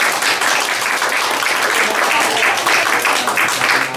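Loud, sustained applause from a crowd at a football club's Christmas party, many hands clapping in a dense, continuous wash close to the microphone.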